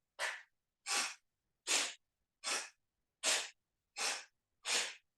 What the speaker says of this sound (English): I'm puffing and panting as I go.